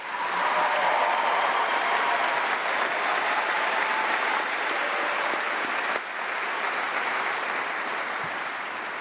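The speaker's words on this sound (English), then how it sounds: "Should we give them a big round of applause," A congregation claps for the band at a summer gathering, sustained even applause from a large group of people, loud and continuous, easing slightly toward the end.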